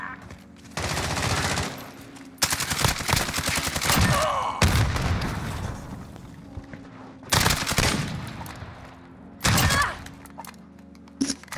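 Loud bursts of automatic gunfire and single shots in a multiplayer shooter match with a bomb objective. The shots come in several heavy clusters separated by quieter gaps, with faint voice chat underneath.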